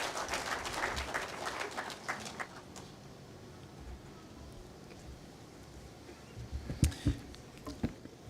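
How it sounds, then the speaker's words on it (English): Audience clapping at a court e-filing launch ceremony, a moderate burst of applause at the start that thins out and fades by about three seconds, followed by quiet room tone and a few isolated sharp knocks near the end. "Please, a handy clap for the CS."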